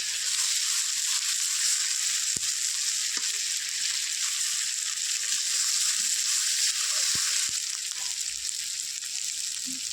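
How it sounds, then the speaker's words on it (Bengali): A masala paste of ginger and cumin fries in a pan as a steady, loud, hissing sizzle that holds evenly throughout, broken only by a few faint clicks, with no one talking. "আদা বাটা জিরে বাটা দিয়ে ভালো করে মশলাটাকে কষিয়ে নেব"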